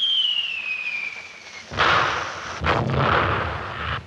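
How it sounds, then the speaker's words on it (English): A descending whistle fades out, then two heavy booming explosions hit in quick succession, each followed by a rumbling, crackling tail. "There are explosions, of course."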